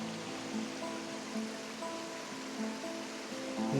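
A small woodland creek runs steadily along a hiking trail, a close, continuous rushing babble of water with no voices.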